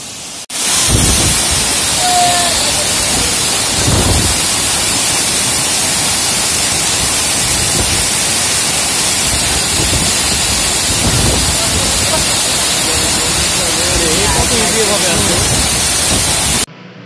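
Steady loud roar of a waterfall along a trekking trail, a dense continuous rush of falling water filling the whole stretch, with faint voices underneath.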